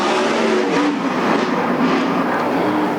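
Western sprint race cars roar around the Sunset Speedway Park track, a loud, steady engine drone filling the air with no letup.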